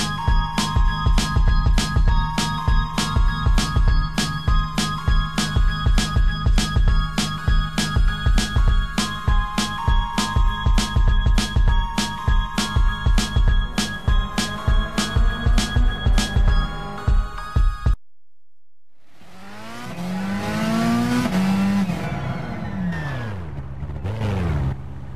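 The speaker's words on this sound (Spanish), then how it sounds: "vamos a dar una vuelta con el Infinity Concept Vision Gran Turismo." Infiniti Concept Vision Gran Turismo car driven in Gran Turismo 6, its engine note revving hard with rapid rhythmic gear changes and steady pulsing, then a short silence before another rising and falling rev sweep, loud and close.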